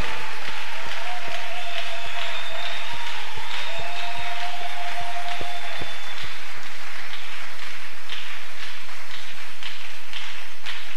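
A church congregation applauds together, a loud, steady patter of many hands clapping that carries on without pause, with voices and sustained musical tones sounding over it early on.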